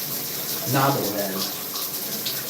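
Water running from a shower nozzle in a home bathroom, a steady close hiss throughout with a brief louder gush, while a person talks over it.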